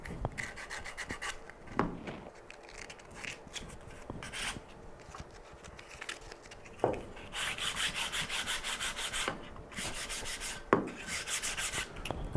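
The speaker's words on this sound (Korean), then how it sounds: "이 안에도 사포를 이용해서 닦아주면은 여기도 굉장히 부드럽게 표현이 되니까" Sandpaper rubbed by hand over a camphor wood cutting board, working inside its storage hole, giving a dry continuous rasping scrape in uneven strokes with occasional sharper knocks, close and fairly quiet.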